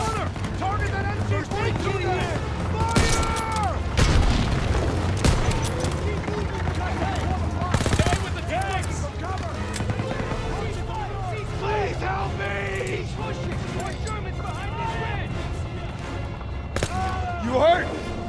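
Continuous battlefield gunfire from Call of Duty: WWII's Operation Cobra mission, with machine gun bursts, explosions and shouted voices over a loud, dense mix of combat noise throughout.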